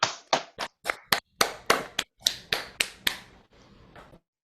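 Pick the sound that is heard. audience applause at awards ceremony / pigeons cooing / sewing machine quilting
audience applause at awards ceremony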